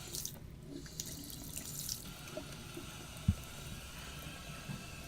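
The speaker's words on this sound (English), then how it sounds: "Run hot and cold water at the bathroom sink" Hot and cold water runs steadily from a bathroom sink tap in an Icelandic home, a continuous hiss with one brief knock partway through.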